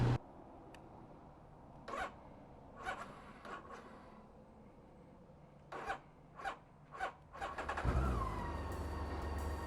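BMW K1600GTL motorcycle struggling to start after winter storage: repeated short starter bursts and coughs separated by pauses, then the engine catches into a steady low idle, close by.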